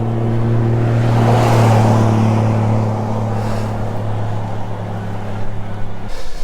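On a quiet early-morning road, a car approaches and passes close by while being overheard from an electric gravel bike, its rising hum swelling to a peak and then tapering off, followed by faint road noise.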